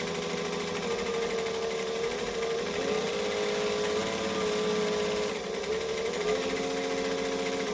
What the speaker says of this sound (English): I am now going to stitch all the way around and baste these together.